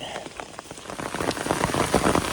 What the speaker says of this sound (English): I got rained on. Big surprise. This was a heavy downpour too.